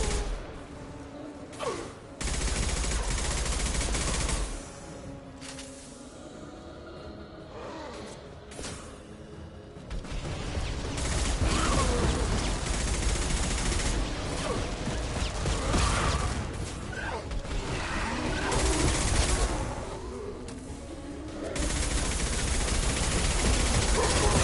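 Gunfire in Mass Effect 2, intermittent bursts of shots and mechanical clatter over a rumbling game mix, rising and falling in intensity across the stretch with quieter gaps between fights.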